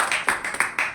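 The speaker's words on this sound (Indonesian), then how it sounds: "kita beri tepuk tangan kepada pengantin tersebut" A church congregation claps for a bride and groom, a handful of sharp, fairly close claps in an uneven rhythm within a brief burst.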